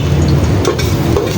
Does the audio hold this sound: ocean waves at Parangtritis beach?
no